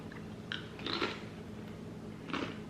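Crunchy Quaker Cocoa Crunch rice thins bitten and chewed up close, a few short crisp bursts of crunching separated by quieter pauses, with no talking.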